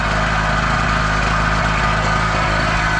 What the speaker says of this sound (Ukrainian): генератор просто ще холодний, тому працює нестабільно, але генератор запустили